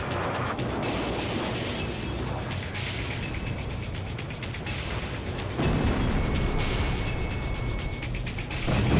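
Bombing explosions in the Ace Combat Zero video game roll on as a continuous heavy rumble, with repeated dull blasts and one louder surge partway through, dense and moderately loud with no speech.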